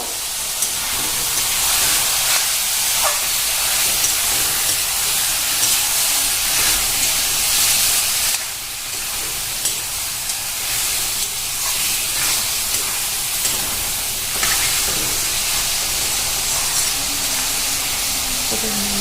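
Duck meat sizzles and hisses loudly and steadily in a hot pan, a constant bright frying crackle that briefly dips midway before carrying on.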